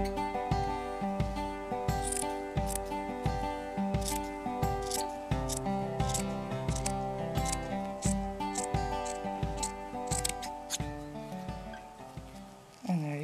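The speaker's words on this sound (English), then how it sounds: "take my scissors and just kind of eyeball and cut all the way" Scissors snip steadily through thick faux fur, a regular series of close, crisp cuts repeating about once a second with soft background music.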